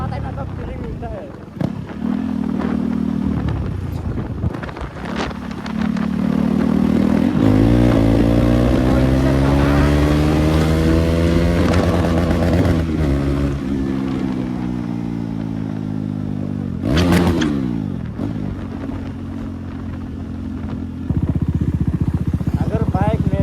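A KTM Duke 390 motorcycle engine running without an exhaust, loud and close, revving up into sustained high, harmonic-rich drones and dropping back, with sharp blips and a final burst.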